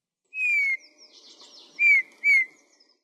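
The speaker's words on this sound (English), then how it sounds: "A familiar sound floated through the speakers. A bird's whistle." Clear bird whistles ring out alone in quiet: a long descending note, then two shorter whistled phrases with soft chirps between.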